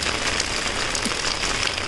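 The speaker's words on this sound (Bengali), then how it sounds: "তুমুল বৃষ্টি একেবারে" Heavy rain pours down steadily, a dense, continuous hiss of drops striking surfaces that stays loud and even throughout with no voices.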